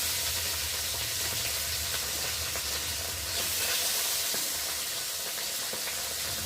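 Whole small hilsa fish frying in a wok, a loud, steady hissing sizzle close by that swells slightly midway and holds without pause.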